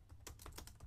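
A handful of quick keystrokes tapped on a computer keyboard while entering text into a C# program, a short, even run of clicks close to the mic.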